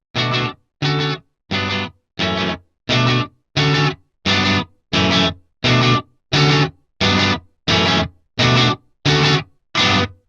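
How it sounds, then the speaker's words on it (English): Electric guitar, overdriven by an amp just at the point of breaking up, chugs in fourteen evenly spaced, punchy bursts with short gaps between, crunchy and loud, no voices. "stop at the point where the amp begins to break up, giving just enough distortion"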